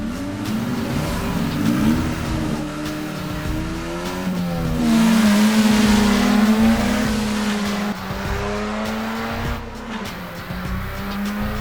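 A drag racing car launches down the dragstrip, its engine revving hard with rising and falling pitch sweeps and tire squeal, loud and close throughout with no talk.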